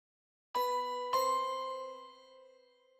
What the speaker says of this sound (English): Grab some bells here.